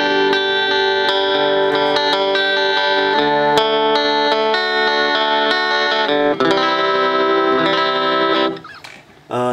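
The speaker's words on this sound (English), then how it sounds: "This pedal used when we use an electric guitar and we want sounds like an acoustic guitar." An electric guitar played through a Boss AC-3 Acoustic Simulator pedal, with a bright, acoustic-like tone, plays strummed chords and picked notes steadily, ending with a brief scratchy handling noise.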